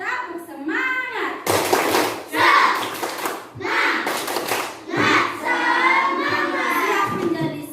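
A classroom group claps a rhythmic cheer in counted bursts of loud hand claps, mixed with a teacher's voice and children's chanting throughout.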